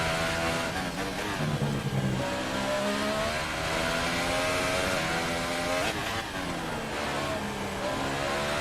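A race car in a racing video game revs hard, its loud, close engine whine rising and falling continuously through gear changes and corners, with no talking.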